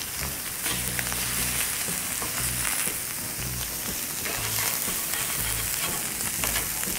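Picanha beef sizzles steadily in a frying pan cooked without added oil, giving a loud, continuous crackling hiss with soft low thumps underneath and no voices.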